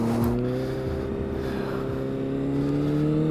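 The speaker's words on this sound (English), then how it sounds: "We are on the road on basically a street legal race bike." A 2008 Honda CBR600RR sport motorcycle, a rebuilt street-legal race bike, accelerating on a road, its engine drone climbing steadily in pitch with a loud, continuous whine and no talk.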